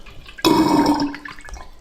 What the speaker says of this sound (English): you'll see water will actually come out the overflow